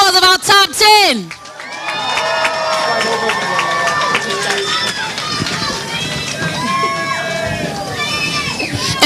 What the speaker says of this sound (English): Let's give a round of applause of our top 10.